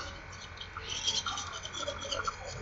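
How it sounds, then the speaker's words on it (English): A toothbrush scrubs teeth, gums and tongue in quick, close, scratchy strokes that keep a steady back-and-forth rhythm throughout. "brushing the lower teeth and gums inside, right, front, and left, and then the tongue."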